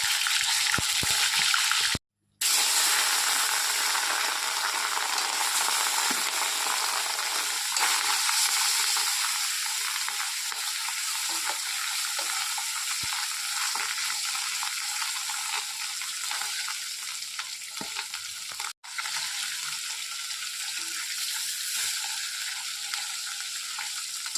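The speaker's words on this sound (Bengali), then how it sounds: "তাই মাছগুলোকে ভালো করে ভেজে নেব" Pieces of rohu fish frying in hot oil, a steady, close hiss and sizzle that runs almost unbroken, dotted with small pops and a few faint utensil clicks, with no talking.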